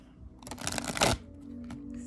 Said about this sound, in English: give the cards a shuffle, pull one, and then read